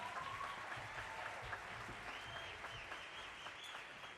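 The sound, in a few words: audience applause for the first block band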